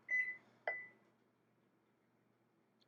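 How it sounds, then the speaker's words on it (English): A kitchen timer goes off while pasta cooks, giving two short, high electronic beeps in quick succession, fairly faint, followed by near silence. "As you heard the timer go off, our pasta is perfectly cooked."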